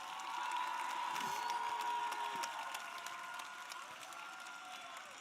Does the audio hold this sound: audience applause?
yes